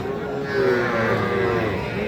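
A young bull or heifer calf at a livestock market gives a long, drawn-out moo, loud and close, over a busy murmur of background noise.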